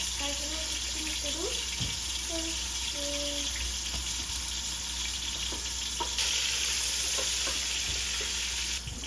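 Onions and garlic fry in a pan with a steady, close sizzle and a few stirring clicks, while a voice talks briefly over it near the start.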